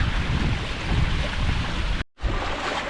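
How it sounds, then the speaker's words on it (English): Strong wind buffets the microphone aboard a MiniCat 520 Explorer catamaran sailing in the Stockholm archipelago, a loud, continuous roar of gusts with water rushing beneath, briefly cutting out before resuming. "the wind is now accelerating"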